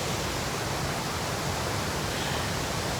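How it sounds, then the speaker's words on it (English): Sable Falls in Michigan's Upper Peninsula pours in a steady, dense roar of rushing water, loud and unbroken, with no voices over it. "we're at another waterfall site. This one is Sobble Falls."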